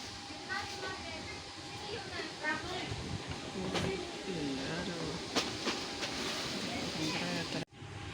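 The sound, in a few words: economy-class passenger train running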